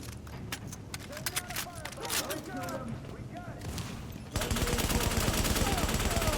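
An M60 machine gun and a sawed-off shotgun fire during a combat mission in The Division, with bursts and single shots at first, then a sudden steady wall of heavy automatic fire, while someone talks over it.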